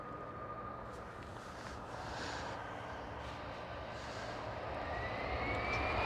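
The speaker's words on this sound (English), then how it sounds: "To the Antonov 28 of the Polish Air Force. A very small plane" A small Polish Air Force Antonov An-28 twin-engine propeller plane passes at Amsterdam Schiphol airport, a steady broadband engine roar that builds slightly, heard alone outdoors at moderate distance.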